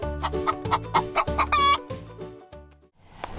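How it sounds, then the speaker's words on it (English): A chicken on a farm clucks in a quick, rhythmic series of close, sharp notes, rising to a louder squawk before pausing, with no one talking. "What does the chicken say?"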